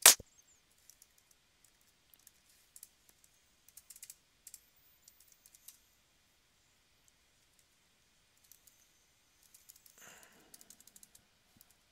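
A computer keyboard clicks in scattered bursts of keystrokes during Linux command-line work. The typing is close but quiet, with pauses between the bursts and a faster cluster near the end. No one talks.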